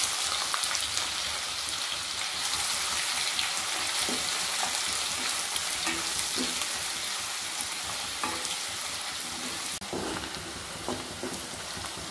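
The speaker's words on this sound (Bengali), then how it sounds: "পেঁয়াজগুলো লাল লাল করে ভেজে নিচ্ছি।" Chopped onions fry in oil with a bay leaf and melted sugar in a pan for a Kolkata-style chicken chaap, giving a continuous close sizzle with occasional stirring scrapes and no talking.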